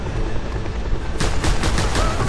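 Gunfire in the video game Just Cause 2: a steady background rumble, then a rapid burst of about six automatic shots, loud and close.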